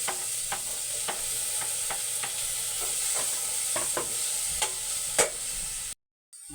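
Tomatoes tossed into a frying pan with onions hiss in a steady sizzle, punctuated by regular spatula scrapes and stirring clicks close by, with no talk.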